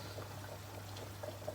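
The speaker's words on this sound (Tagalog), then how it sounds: "Kumukulo-kulo na siya." Pork rib sinigang broth simmering in a cooking pot, a faint, gentle bubbling with soft irregular pops over a low steady hum.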